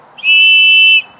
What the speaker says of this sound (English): This is a plastic, and it also has a whistle